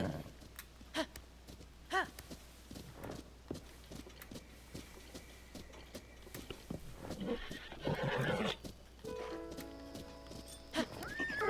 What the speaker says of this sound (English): let's bring this big-ass horse back to the stable